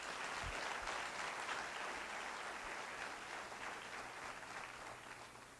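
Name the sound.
congregation clapping hands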